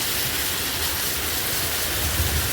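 Heavy rain driven by wind in Saudi Arabia makes a dense, constant rushing hiss with a low rumble underneath, steady and enveloping from start to end, no voices heard.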